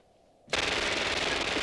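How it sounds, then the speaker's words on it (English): Machine gun fire from the film Night of the Comet, erupting suddenly after a quiet moment into a loud, sustained automatic burst. "Reggie and Sam go to a weapons locker to get some machine guns"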